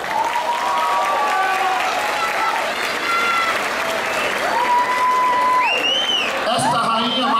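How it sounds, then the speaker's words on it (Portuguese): An audience applauds Dona Maria Padilha at a devotional gathering. The clapping is full and sustained, with a crowd murmur and some whooping or singing voices mixed in. "peço um caloroso aplauso a Dona Maria"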